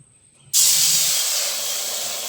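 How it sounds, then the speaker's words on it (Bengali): A sudden loud sizzling hiss erupts as water hits a hot wok, starting abruptly and continuing steadily, close up, with no talking. "কড়াইয়ে অল্প পরিমাণে আগে জল দিয়ে নেব,"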